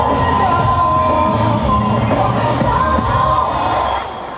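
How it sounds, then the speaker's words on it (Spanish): A crowd at a shopping-centre show cheers and applauds loudly and continuously at close range, and the noise eases off just before the end. "Y con este aplauso nos despedimos"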